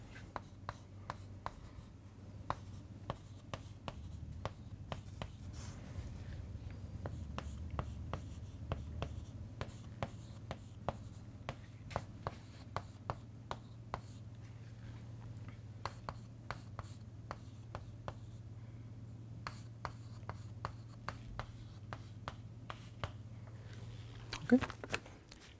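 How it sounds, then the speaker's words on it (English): Pen or marker writing equations by hand during a systems-modelling lecture: a long run of quick, scratchy strokes and taps, steady and close, with a faint hum underneath and no talk. "I can write down the equations in the following way."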